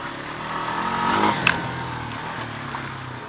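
Motorcycle engine revving up for wheelies, a rising throaty roar that peaks midway and then eases into a steadier rumble, heard from moderately close.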